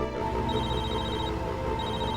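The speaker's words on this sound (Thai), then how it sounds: "ครูครับ มือถือดังเนี่ย" A mobile phone rings with a steady electronic ringtone, loud and continuous over a dense background, no talk over it.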